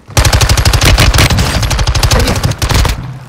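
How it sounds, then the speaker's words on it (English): Video game gunfire in a rapid automatic burst of loud, close shots that fire continuously for about three seconds and then cut off. "I'm getting shot from the roof in front of me."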